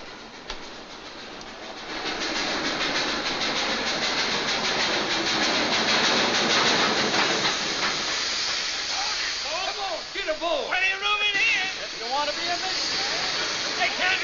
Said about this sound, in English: Walter, I'll miss my train